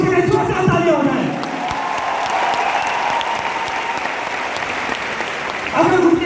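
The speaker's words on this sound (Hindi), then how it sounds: "हम सभी के गुरु संजीव कुमार जी ने जोरदार तालियां हो जाए।" A large crowd at a company gathering breaks into sustained applause, dense and loud with some cheering, while someone talks over the start and the clapping swells again at the end.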